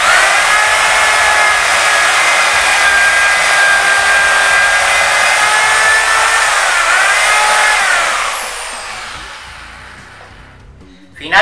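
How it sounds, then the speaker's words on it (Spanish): A power drill bores a dowel hole into a wooden board using a dowel-joining jig, giving a steady loud whine that winds down near the end, with no talk. "Finalmente, hago el tercer taladro de acuerdo al mismo procedimiento."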